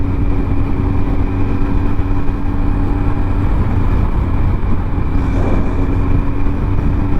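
A used Suzuki Hayabusa motorcycle with about 3,760 miles runs steadily, a loud, close, continuous engine drone with a low rumble and steady tone, no voices.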